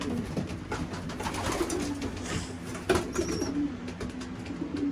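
Young pigeons cooing inside a breeding loft, a low steady murmur of coos with occasional wing flutters, fairly close and continuous throughout.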